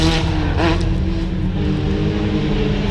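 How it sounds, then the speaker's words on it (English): Limited Super Buggy race cars run laps on a dirt track at Rolling W Ranch, a steady loud engine roar with rising and falling revs as buggies pass, no voices. "I think the Limited Super Buggy boys are running right now."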